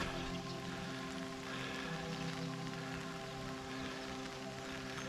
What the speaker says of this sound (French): Nouvelle averse.